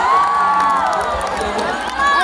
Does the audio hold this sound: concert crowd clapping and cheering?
yes